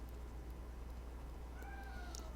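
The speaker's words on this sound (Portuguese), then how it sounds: "eu estou com a gatinha aqui miando muito" A pet kitten gives a single meow partway through, moderately clear but not loud, over a constant low hum and room noise.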